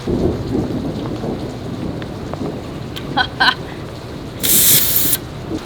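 A thunderstorm with steady heavy rain hissing close by, brief thunder cracks in the middle and a louder burst of rain spray near the end.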